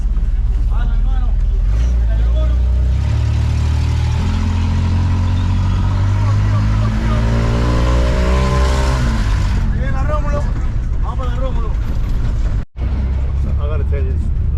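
Small passenger bus engine droning steadily through a ride in Venezuela, a loud low rumble with rising gear-change tones midway, while people talk over it.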